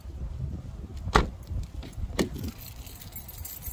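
A bunch of keys jangles in a couple of short bright bursts, close by, with faint car and outdoor background noise and no talking.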